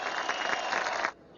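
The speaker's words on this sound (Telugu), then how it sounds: "ఈసారి తిట్లకు బదులుగా చప్పట్లు కురిశాయి" Spectators at a wrestling match clap together in a dense burst of applause that holds steady for about a second, then stops abruptly.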